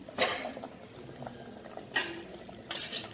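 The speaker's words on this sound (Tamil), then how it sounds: "நல்லா கொதிச்சாச்சு தண்ணி நம்மளுக்கு." A pot of water on the boil for vegetable biryani gives a soft bubbling, simmering murmur, broken by three brief metallic clinks of a lid or utensil against the pot; fairly quiet and close, with no speech.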